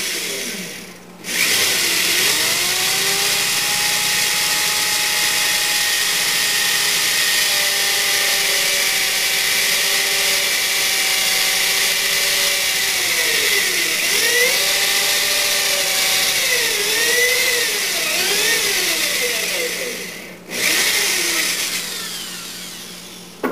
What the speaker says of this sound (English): put my brad point in there, in the center point, and then go ahead and drill.